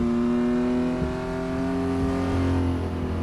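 A Porsche racing car engine in a 1960s endurance-racing video game at Spa drones steadily with a rich harmonic hum, its pitch shifting slightly as the revs change, with no voices.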